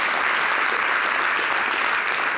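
Studio audience at a French-language variety show breaks into loud, dense applause, a continuous even roar of clapping that stays at full strength throughout.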